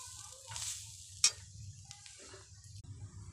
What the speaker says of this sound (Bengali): নারকেলটা ভালো করে নেড়ে ভেজে নিচ্ছি